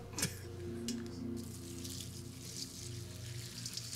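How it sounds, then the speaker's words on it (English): Water bubbles on the boil in a pot while pho is being cooked, a soft, steady seething and popping heard faintly and close, with no talk. "Boiling water."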